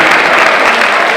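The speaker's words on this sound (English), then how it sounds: "You can give that a round of applause" Audience clapping at a 2018 high school graduation ceremony, a brief dense burst of applause from a large crowd.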